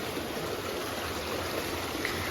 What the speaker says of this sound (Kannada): ಅದು ನೀರು ಬೀಳೋದು ಸೌಂಡ್ ನೋಡಿ ಅಂತೆ